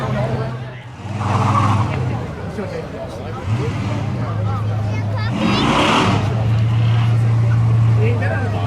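Drag race between a 1986 Chevy Camaro and a 2007 Mazda 6 at a street-legal spectator drag event, with engines revving and droning loudly while an announcer talks over them.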